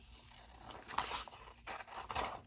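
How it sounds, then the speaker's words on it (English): Scissors cut through a sheet of paper during an indoor perspective drawing lesson: a few quiet, close snips and rasping slides across roughly two seconds, with no talking. "I have scissors right here handy, so I'm just going to cut mine"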